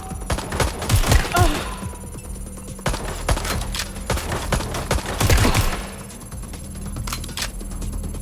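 Bursts of automatic gunfire in the video game Watch Dogs Legion, loud rapid volleys and scattered single shots with game effects, coming in waves with short lulls between.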